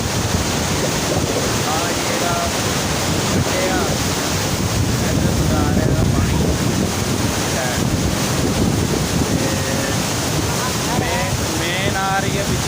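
Loud, unbroken roar of water rushing through the headworks of the Munda Branch canal, a dense steady wash with wind buffeting the microphone and faint chirps surfacing now and then.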